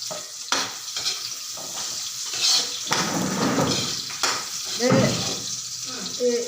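Onion and ginger sauté in a pan for a prawn coconut-milk dish, a steady close sizzle broken by the scrape and clink of a utensil stirring against the pan, with a voice speaking briefly.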